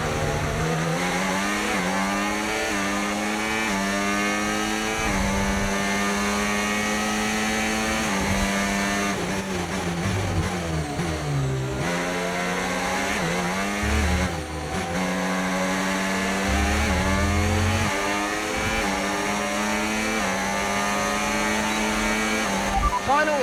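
Formula 1 race cars screaming through a race, high engine whine climbing and dropping through gear changes as one car passes for the lead, steady and loud with a voice talking over it.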